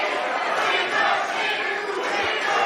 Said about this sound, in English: Crowd chanting Green Machine